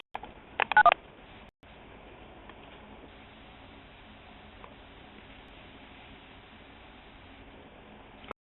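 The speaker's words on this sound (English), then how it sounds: "it's like they're in the process of dialing again" Telephone keypad dialing tones as a caller rejoins a conference call: a quick cluster of DTMF beeps near the start, then a steady line hiss with a faint blip, ending in a brief click.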